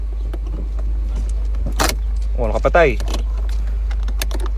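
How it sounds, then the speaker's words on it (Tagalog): Keys jingle as they are pulled from a Ford's ignition inside the car, a short bright metallic rattle with a brief spoken remark around it. "Hugutin mo yung susi dyan."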